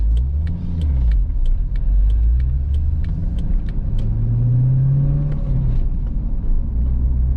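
A 22-year-old C5 Corvette cruises smoothly, its engine rumbling low and steady with tones that swell and settle through gear changes, heard up close from inside the car.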